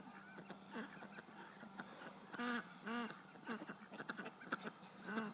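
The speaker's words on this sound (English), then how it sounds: "Are you coming home, ducks?" Several ducks quack at close range outdoors, harsh honking calls repeating in irregular bursts, some overlapping, with a faint background hiss and no speech.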